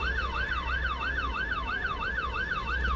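A wailing emergency vehicle siren in the Roblox video game sweeps up and down in a fast, regular cycle, loud and steady throughout, over a low engine hum.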